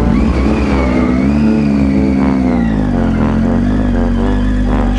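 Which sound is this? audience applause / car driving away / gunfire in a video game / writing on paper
car driving away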